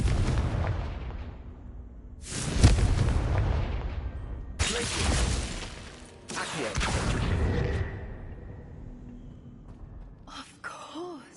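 Fiery Confringo spell blasts in Hogwarts Legacy, several loud booming bursts in a row with roaring tails, followed by a quieter stretch and a brief shimmering magical sound near the end.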